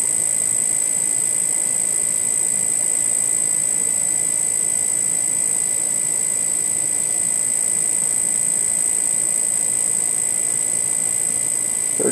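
A high-voltage electrostatic magnetic levitation motor spins at around 3300 RPM, giving a loud, steady whine with sustained high tones over a constant hiss, unchanging from start to finish and heard alone.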